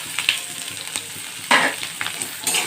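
Sliced onions fry in hot oil in a pan, with a steady close sizzle and occasional louder crackles and stirring scrapes, and no talking.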